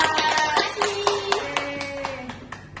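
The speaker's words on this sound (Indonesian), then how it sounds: "beri aplaus buat Rizka" Scattered hand claps from students in a mathematics classroom, a loose string of a dozen or so separate claps, fairly close, with faint voices and tones in the background.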